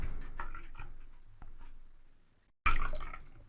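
Lye solution trickles slowly into soap oils while making tulsi soap, giving soft dripping, splashing bursts separated by short pauses, with a louder splash arriving near the end.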